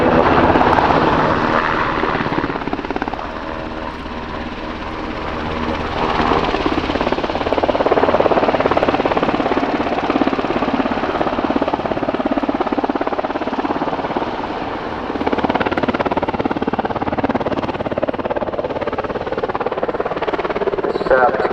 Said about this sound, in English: This is UH-60M Blackhawk, a major upgrade for more efficient relays, infrared suppressors, more powerful General Electric engines.